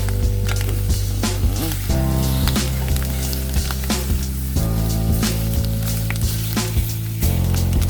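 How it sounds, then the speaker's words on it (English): Tocino frying over an outdoor campfire, a steady close crackling sizzle with sharp pops and spatters running throughout, joined by a low hum. "Tocino in fire."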